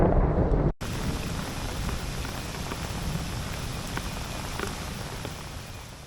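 Heavy rain pounds a caravan roof during an Australian storm-season thunderstorm, a dense, loud, continuous roar with low thunder rumbling underneath, after a brief louder burst at the very start.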